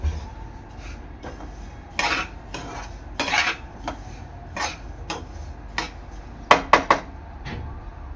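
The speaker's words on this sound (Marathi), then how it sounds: "तर अजून थोडे आपल्याला 3 ते 4 मिनिटं स्लो गॅसवर भाजून घ्यायचे आहे" Sesame seeds dry-roasting in a pan over low heat, with irregular spoon scrapes and light metallic clinks close by over a faint background, some strokes louder and quick in succession.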